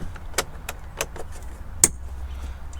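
A plastic door lock switch connector is plugged in inside the door of a 2017-2019 Ford F-250/F-350 Super Duty, giving a handful of sharp, close clicks and small plastic snaps in quiet surroundings.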